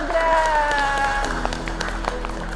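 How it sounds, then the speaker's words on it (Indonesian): Classroom students clap for a classmate in a brief round of applause, scattered hand claps mixed with a sustained tone and faint voices nearby. "tepuk tangan untuk Mas Badra"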